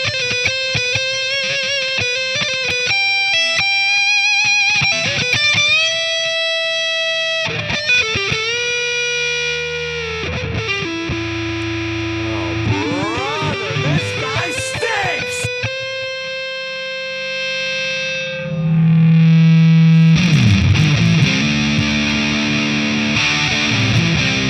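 Electric guitar with single-coil pickups runs through a Keeley Super Rodent distortion pedal, playing loud, saturated sustained notes, bends and chords, ending in a dense, heavy strummed passage.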